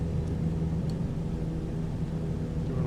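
Engine drone of an XCub light plane in Microsoft Flight Simulator 2020, flying in Alaska and slowing with flaps set to 2, a steady low hum and rumble held evenly throughout with no talk.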